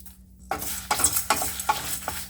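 Spice powder dry-roasting with salt in a pan for tamarind rice, with a spoon stirring in rhythmic scraping strokes about twice a second over a faint sizzle, close and fairly loud, no voices.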